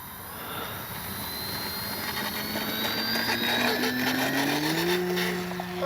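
An FMS CJ-6 V2 radio-controlled model airplane flies overhead with a steady, whining electric motor and propeller drone. The pitch rises gradually as it climbs, and the sound grows slightly louder throughout.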